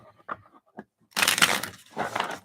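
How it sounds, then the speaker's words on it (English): Tarot cards shuffled by hand, a few soft isolated taps followed by two louder riffling bursts of card stock, close and quiet with no talk. "No, I'm going to give you 2 shuffles."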